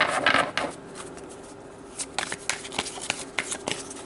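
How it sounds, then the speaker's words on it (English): Tarot cards shuffled by hand, a burst of riffling followed by softer, repeated card slaps and rustles, close and fairly quiet, with no voices. "Just getting these super shuffled from Gemini's reading"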